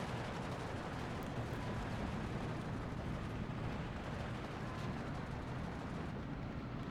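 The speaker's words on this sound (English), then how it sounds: "we're going to walk the artillery over" Continuous dense rumble of an artillery barrage in the Steel Division World War II strategy game, heavy low booms blending into a steady roar with no distinct gaps, moderately loud and without talk.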